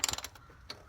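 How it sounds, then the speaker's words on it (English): The oil filter housing of a Toyota Tundra is screwed back in by hand, giving a quick run of soft ratcheting clicks followed by a single faint click, close by and quiet. "Now we'll reinstall the filter housing with the new filter material in place."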